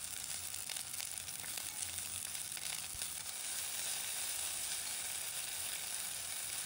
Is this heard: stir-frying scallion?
yes